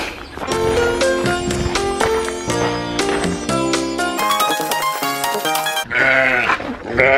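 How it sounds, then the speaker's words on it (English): Goats bleat loudly and close by in a farm setting, several overlapping calls in rapid succession filling the clip. "The goat."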